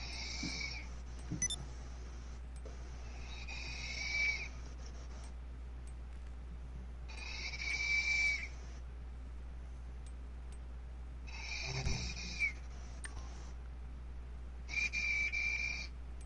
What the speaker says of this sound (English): I think he actually did fall asleep. You hear him snoring?